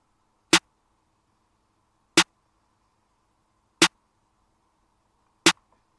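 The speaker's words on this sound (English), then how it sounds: "I made this snare pattern." Four crisp snare hits land evenly spaced about a second and a half apart, sharp and dry, with near silence between them.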